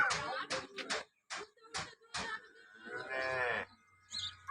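Cows in a dairy shed moo again and again, each call short and close, with brief quiet gaps between them.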